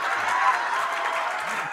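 Scattered applause in a classroom, a short stretch of steady hand clapping from a group, moderately loud and without pauses.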